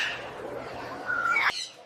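Parrots and small birds in a zoo bird house give bright squawks and chirps, with a sharp high call rising near the end of a brief, fairly loud stretch.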